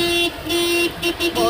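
Car horn honked repeatedly in short bursts from a driving-school car being driven on a road, loud and close over engine and road noise, with a voice faintly in the background.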